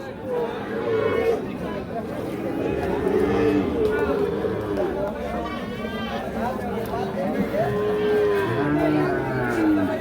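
Sahiwal cattle low repeatedly at a busy Pabna livestock market, the moos rising over constant crowd chatter and people talking nearby.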